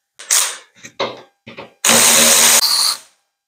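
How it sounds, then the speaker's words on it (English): A power drill bores a hole through a go-kart steering column, several short whirring bursts followed by one longer loud run, close and with no talking. "what I've done is I've drilled that hole"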